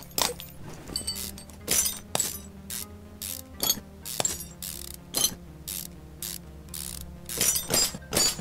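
Ratchet wrench clicking in rapid bursts while removing an exhaust manifold in Car Mechanic Simulator 2015, repeated metallic ratcheting strokes separated by short pauses, crisp and close.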